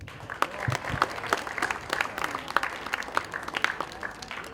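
Audience applause at an awards ceremony for an India a cappella championship, a steady patter of many hands clapping with sharp individual claps popping out, moderately loud and continuous, with faint voices beneath.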